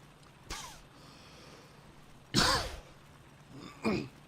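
A few short, harsh coughs and throat clearings from someone with a lingering illness, spaced irregularly over a few seconds against a quiet, faintly humming background.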